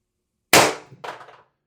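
A Pistelle X-68 CO2 gun on a 12 gram cartridge fires a 7.3 gram solid aluminum round: one loud, sharp close-up crack, followed half a second later by a fainter metallic impact clang.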